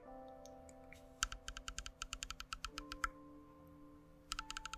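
Aperture ring of a Sigma 24mm f3.5 wide-angle lens turned by hand, giving quick runs of small, crisp, damped clicks up close, with a steady faint hum underneath.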